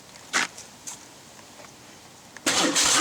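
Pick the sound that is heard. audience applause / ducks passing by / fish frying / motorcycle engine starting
motorcycle engine starting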